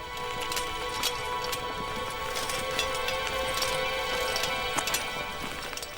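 Many horses' hooves clop steadily in a dense, continuous marching rhythm, an army of men and horses moving two by two down a narrow path into a valley, a sound effect with no voices.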